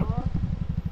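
A motorcycle engine idling nearby at a river camping resort, rapid low chugging pulses with a faint voice briefly at the start.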